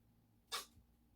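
A single short, sharp sneeze-like burst stands out against a quiet room, brief and fairly close, with nothing else around it.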